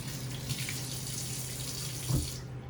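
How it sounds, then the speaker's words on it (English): Tap water runs steadily into a sink while a hand is rinsed clean of egg during breading of sole fillets, a continuous close splashing with a brief heavier gush near the end. "Rinse off my hand for a second."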